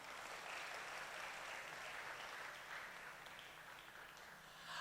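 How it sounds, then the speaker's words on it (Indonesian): A church congregation at a Christmas service applauds continuously, a dense steady patter of many hands clapping, fairly distant and even in volume throughout. "Beri tepuk tangan bagi Tuhan semuanya."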